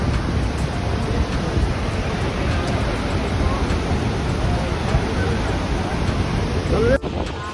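The Saraswati river rushes loudly at its source in Uttarakhand, a dense continuous roar of fast water close by with wind buffeting the microphone and a brief bump near the end.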